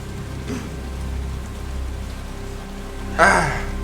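Steady rain pattering on surfaces fills the background of a Resident Evil 7 game scene, with a brief louder thump and a short voice near the end.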